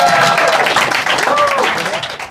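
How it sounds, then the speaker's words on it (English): Live comedy show audience applauding the comedians, a loud full round of clapping and cheering that tapers off slightly, with a host's voice talking over it and a few whoops riding on top. "give it one more round of applause for our comedians of the first half"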